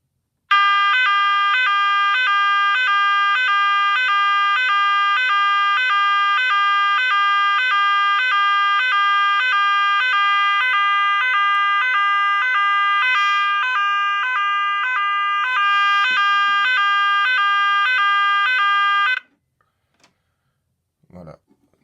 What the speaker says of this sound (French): attention aux oreilles, parce que cette sirène, elle sonne fort